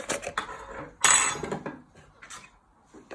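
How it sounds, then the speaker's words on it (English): A fork stirring in a dish during roast dinner cooking, with quick scraping, clinking strokes of metal against the bowl, a louder burst of stirring in the middle, then lighter taps, close and alone. "Now you give it a good stir with your fork."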